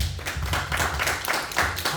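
A church congregation claps together in a Pakistani Urdu-speaking service, a dense, loud, steady patter of many hands filling the whole moment with no voice on top.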